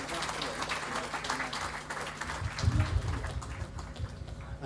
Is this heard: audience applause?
yes